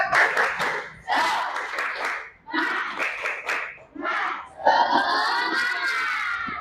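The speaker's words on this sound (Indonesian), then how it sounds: "Sebelumnya, tepuk semangat." A group performs a spirit clap in a classroom game session, with rhythmic bursts of clapping mixed with loud chanted shouting voices in repeated short phrases.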